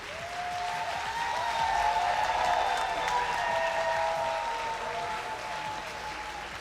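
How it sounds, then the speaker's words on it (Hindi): Sustained audience applause fills a talk on improving relationships, a dense, steady wash of many hands clapping that swells slightly in the middle and holds for several seconds with no speech over it. "तालियां बजाओ कि अंदर तक आवाज़ जाए।"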